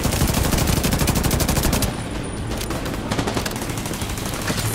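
G36 assault rifle in The Division 2, fired in a loud, rapid automatic burst that steadies into continuous gunfire, with a slight drop in level partway through.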